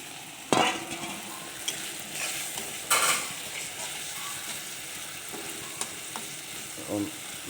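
Soybean chunks fry in oil in a pan as a little water is splashed in, giving a sharp burst of sizzle followed by steady crackling and occasional stirring clinks, with a second flare near the end.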